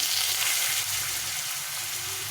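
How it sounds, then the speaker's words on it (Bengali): Potatoes frying in a pan with cumin seeds give off a steady, close hiss of sizzling oil that holds even for a couple of seconds, with no voices over it. "আলুটাকে এভাবে একটু ভেজে নেব"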